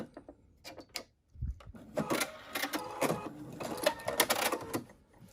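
A sewing machine stitches fabric for a face mask storage pouch in short runs, with a brief pause and some clicks before a longer whirring burst that stutters as the stitching reverses.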